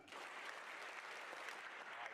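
At a sports hall of fame banquet, an audience claps steadily and densely for about two seconds, a continuous roomful of applause rather than five distinct synchronized claps.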